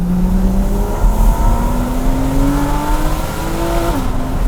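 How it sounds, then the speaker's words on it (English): Porsche 911 GT3 accelerating in sport mode with the exhaust valves closed, a loud, close, rising engine note climbing through the revs with a quick shift near the end, with no talking. "Let's now put it in sport mode. This is with the valves closed now."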